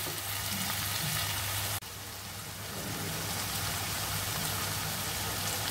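Spice paste for mutton curry fries in released oil, making a dense, continuous sizzle with a brief sharp break early on before the steady frying resumes.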